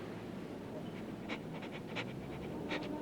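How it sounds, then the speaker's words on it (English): A dog pants in a film scene, with faint breathy puffs and light snuffles repeating over a steady background hiss. "We got a dog that can read your mind."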